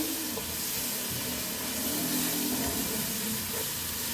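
Tomato puree and Kashmiri red chili paste frying in a karahi for butter chicken, a steady soft sizzle and hiss running evenly and close throughout, with no talking.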